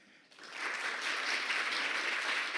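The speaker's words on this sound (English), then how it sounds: "So big round of applause again for Jen." Audience at a health inequalities training day breaking into applause for a speaker, the clapping rising quickly from quiet into a steady, full round that carries on.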